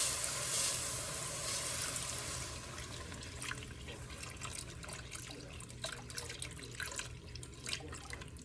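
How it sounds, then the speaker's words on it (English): Low-fat 2% milk poured into a flour mixture while being whisked for Greek mac and cheese, a steady, soft liquid wash with faint stirring scrapes, close and fairly quiet, no voices. "I'm gonna whisk in 2 cups of low-fat milk."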